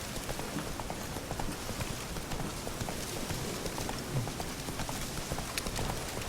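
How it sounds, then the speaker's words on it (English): Horse hooves clip-clop in The Witcher 3 as the steady rhythmic beats of a ridden horse continue throughout, set against a constant rain-like wash of background noise. "I've gone and found this bloody horse."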